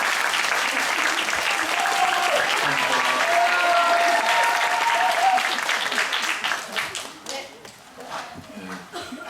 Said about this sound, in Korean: 저분들께 박수 한번 부탁드릴게요.